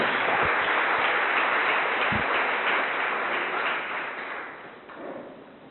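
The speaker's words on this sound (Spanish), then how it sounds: "démosle el aplauso al Señor" A church congregation applauds together in a dense, steady wash of clapping that fades toward the end.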